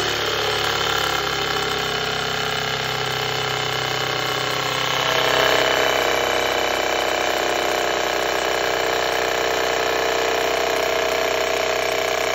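A small 12-volt battery-powered air pump, of the kind used for bicycles, fills the tank of a 1lb pneumatic flipper robot. It gives a loud, steady mechanical drone that runs without a break for the whole stretch.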